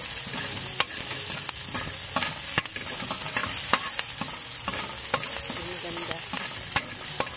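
Onion and ginger frying in a small amount of oil, a steady close sizzle broken by sharp spatula scrapes and stirring knocks against the pan, with a brief spoken remark.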